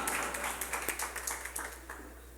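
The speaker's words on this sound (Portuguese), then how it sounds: "Eu queria uma salva de palmas bem forte para vocês" Scattered, fairly quiet hand claps from an audience at an outdoor women's political rally in a city square, with uneven individual claps over steady background hum.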